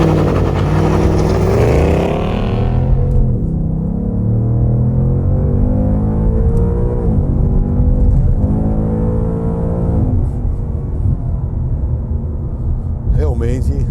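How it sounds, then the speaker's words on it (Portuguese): A 2021 Ford Mustang Mach 1's V8 engine roars up through rising revs in sport mode with launch control, then settles into a throaty, rumbling drone with repeated surges as the car accelerates. "ele tem ruído. E é aquele ruído que a gente gosta mesmo, é um V8"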